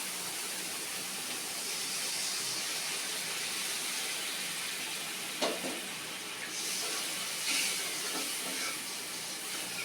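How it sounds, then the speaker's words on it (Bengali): Water is poured into a pan of sizzling, well-cooked onion-spice masala for a bele fish curry. It makes a steady broadband hiss with a couple of sharper splashing bursts near the middle. "পানি দিয়ে দিচ্ছি"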